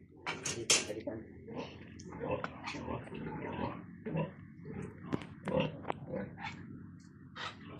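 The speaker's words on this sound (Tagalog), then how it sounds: "pakita ko sa inyo yung ating ibang baboy" Pigs on a farm grunt and shuffle in short irregular bursts at close range, mixed with scattered knocks and scraping movement; a person talks faintly in the background.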